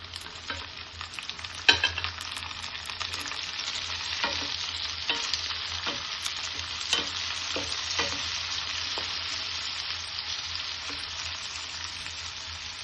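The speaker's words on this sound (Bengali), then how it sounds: "এখন আমি দিয়ে দিচ্ছি টমেটো কুচিটা" Chopped tomato fries with browned onion in a pan for anda bhujia, giving a steady bright sizzle with occasional scraping stirs and clinks of a spoon against the pan, with no talking.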